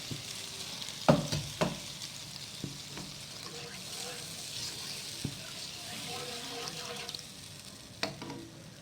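Fish sauce (asam or soy sauce braise for scad fish) bubbles and sizzles steadily in a pot, with occasional clinks of a utensil against the side.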